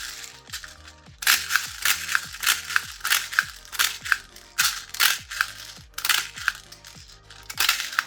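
Rounds being loaded into an MTW magazine with a speed loader, a steady series of sharp metallic clicks and ratcheting snaps in a regular rhythm, close and clear with no talking.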